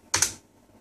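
A short, quick burst of keystrokes on a computer keyboard entering a command, two close taps and then silence.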